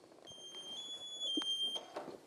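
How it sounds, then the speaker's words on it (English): Firefighter PASS alarm beeping during a fire-safety demonstration, a thin high-pitched electronic tone sounding in steady pulses over faint background room noise, with no talking. "That was my pass alarm."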